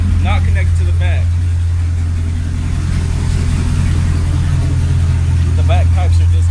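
A Nissan Titan pickup idles with its rear exhaust pipes disconnected, a loud, deep, raspy exhaust drone, steady throughout, with someone talking briefly at the start and end.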